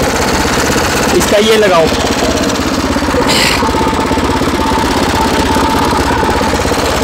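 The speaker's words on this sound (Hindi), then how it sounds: "तो बहुत ही अच्छा ट्रैक्टर है ये, मिनी ट्रैक्टर, होम ट्रैक्टर" A homemade mini farm tractor's small engine runs steadily close by, a loud continuous knocking drone throughout, with a person briefly speaking over it.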